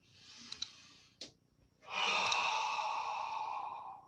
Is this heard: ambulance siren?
no